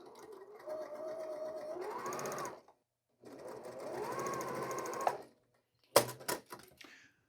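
Sewing machine stitching quilt block seams in two sustained runs, each whirring steadily for a couple of seconds, then a few sharp clicks and thumps as the fabric is handled.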